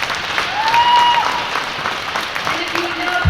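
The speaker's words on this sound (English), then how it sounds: "A final round of applause for our seniors." Crowd applause for the senior players at a WIAA girls hockey game in an arena, steady clapping throughout with a loud announcer's voice over it and a brief organ-like tone.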